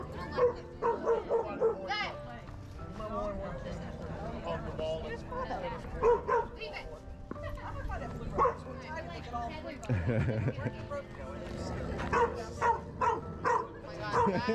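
Dogs at a dog park, among them a corgi, give intermittent barks, yips and whimpers close by, mixed with people chatting over them.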